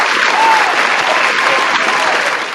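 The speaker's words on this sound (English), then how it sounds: "First, the applause." A crowd claps steadily and loudly for a couple of seconds, a dense, continuous applause.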